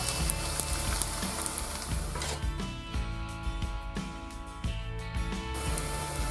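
Onions and eggs fry in a pan for Indonesian lumpia, a steady close sizzle with occasional clinks and scrapes of stirring throughout, no voices.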